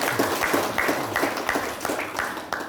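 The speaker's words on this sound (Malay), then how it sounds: "Tepuk tangan untuk pengulu." A small crowd at a thanksgiving ceremony claps for a village headman in a loose, steady rhythm, moderately loud and fairly close, the applause continuing evenly throughout.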